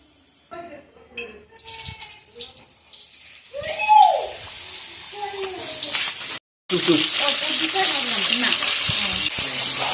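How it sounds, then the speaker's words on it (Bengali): Hollowed pointed gourd frying in hot oil in a wok, with a sizzle that swells and grows louder, breaks off for a moment, then returns dense and steady alongside intermittent voices. "তো আমি পটলটা কিন্তু পুর বার করার পরে ভেজে নিচ্ছি"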